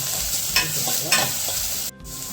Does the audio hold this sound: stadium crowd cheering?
no